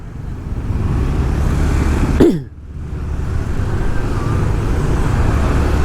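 Congested traffic fills Jalan Raya Canggu in Bali with a steady close rumble of engines and motorbikes, broken by one vehicle passing with a sharp whoosh midway.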